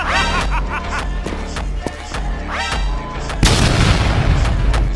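A cartoon-style bomb blast lands near the end, a sudden loud broadband burst following a stretch of busy comic sound effects and chirpy tones in a Hindi animated comedy scene.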